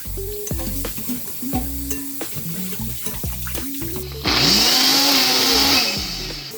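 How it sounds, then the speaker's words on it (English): A blender purees pumpkin with water, starting abruptly after a stretch of clinking and stirring kitchen noises and running as a loud, steady whir that dips slightly in pitch before cutting off. "I pureed the pumpkin for a minute"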